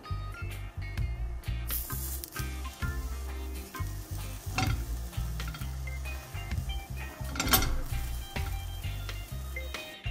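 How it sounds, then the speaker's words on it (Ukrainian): Eggplant slices sizzle on a well-heated frying pan with a continuous crackling hiss, broken by occasional sharper spits and scrapes, close up and with no voices. "відправляю баклажани на добре розігріту пательню"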